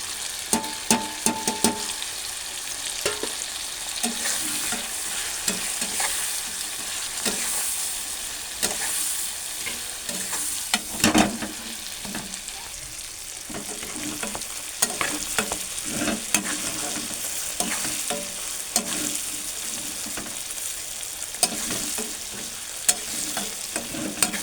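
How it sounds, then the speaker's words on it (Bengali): Chicken curry with spices sizzles and fries in a pan while a utensil stirs and scrapes steadily, loud and close, with irregular clatters over continuous crackling. "তো একটু ভালোভাবে নাড়ব। এবার এই মশলাগুলো অ্যাড করছি।"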